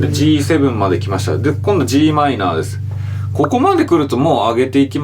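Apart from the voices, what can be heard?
No distinct noise like a dog, phone or traffic.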